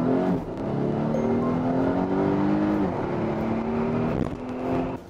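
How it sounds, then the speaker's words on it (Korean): A Volvo XC90 T8 AWD plug-in hybrid in sport mode accelerates hard, its engine note climbing steadily in a smooth, continuous rising drone with no break for gear shifts, loud and close throughout. "부드럽게 빠르게 가속을 이어가고 있습니다"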